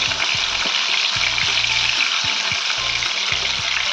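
Fish pieces sizzle and spit loudly in hot oil in a pan for a Kerala fish molly, a steady dense frying hiss with soft knocks and scrapes as the pieces are turned.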